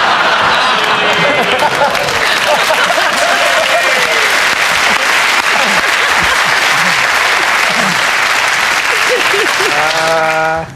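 A television studio audience claps loudly and continuously, dense sustained applause filling the whole stretch, with a voice briefly heard over it at the end.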